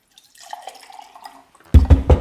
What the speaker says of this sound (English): Filling up some water.